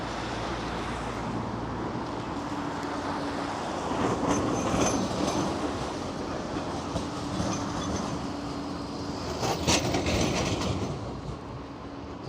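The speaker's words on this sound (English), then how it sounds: "I'll just wait for this tram to go past." A Blackpool seafront tram rolls past, a steady rumble with clickety-clack of wheels on rail that swells in the middle and near the end, heard from close by with no talk.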